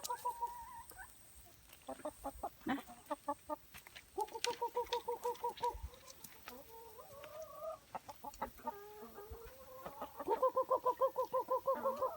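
Chickens peck at grass in the evening, clucking close by in repeated rhythmic bursts of short, throaty notes with brief pauses between the runs.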